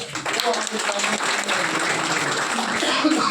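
Audience applause at a panel-speaker achievement event, a steady dense wash of clapping that fills the whole stretch under a speaking voice.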